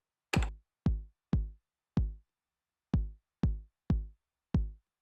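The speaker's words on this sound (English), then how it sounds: "let's start with a bass drum" Accented Roland 909 bass drum hits, eight punchy booming kicks in a sparse uneven step pattern, each with a sharp click attack and a short decaying low tail, alone and dry.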